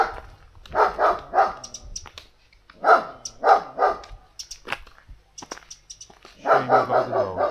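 A dog barks repeatedly in a valley, bursts of several barks spaced apart with quiet gaps, heard outdoors at moderate distance with faint bird chirps in the background.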